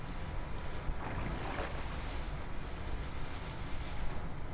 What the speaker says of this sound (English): the water's in motion, I guess